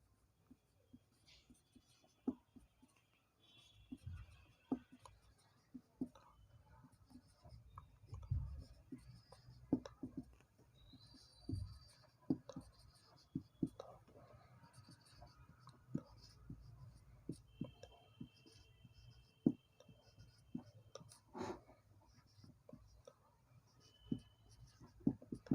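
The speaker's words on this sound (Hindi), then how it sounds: "तो दूसरी बार फिर लिखेंगे इसी प्रकार।" A pen scratching on paper while tabla bols are written out during a notation lesson, with quiet, irregular taps and strokes continuing steadily and softly and a faint voice barely present.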